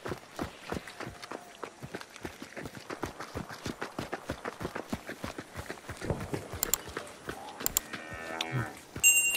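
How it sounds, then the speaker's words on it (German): A cow wearing a bell lows in the Hunt: Showdown 1896 game world, its drawn-out moo rising near the end over a steady run of heavy footsteps and clopping, with no voices. "Auch eine Kuh mit Glocke."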